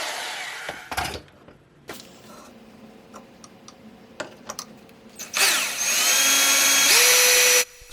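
A power drill sinks long 3.5-inch outdoor deck screws into a cedar planter box. Short bursts and ticks lead into a sustained whining run near the end, nearby and with no voices.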